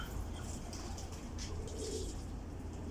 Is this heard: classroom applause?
no